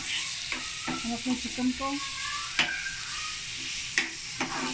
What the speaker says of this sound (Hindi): मैं इसको जो है पैन में फ्राई कर रही हूँ, थोड़ा सा ऑयल डाल के